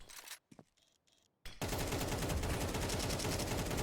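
AK rifle fire in Counter-Strike during a professional IEM Cologne match: a few short gunshot bursts and scattered pops, then a dense, sustained, loud volley of rapid automatic fire.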